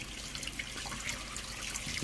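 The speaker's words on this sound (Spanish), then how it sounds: "Lave la semilla con abundante agua, pero lávela muy pero muy" Running water from a tap splashes steadily over an avocado seed being washed under it, a soft continuous trickle and spatter with faint handling sounds, quiet and close.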